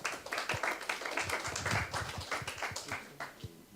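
Scattered audience clapping welcoming a speaker at an evening talk, a moderate patter of individual claps rather than a dense roar, fairly steady across the moment and fading slightly at the end.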